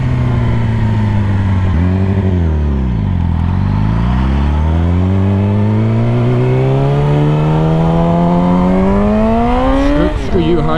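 A Yamaha R6 sport bike engine revs loud and close, pitch dipping as it shifts down and climbing steadily through a long pull on a winding mountain road, with a quick burst of revs near the end.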